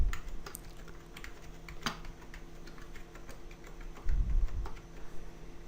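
Rapid clicking keystrokes on a new computer keyboard, irregular taps close and fairly quiet, with a brief low thump in the middle and no speech.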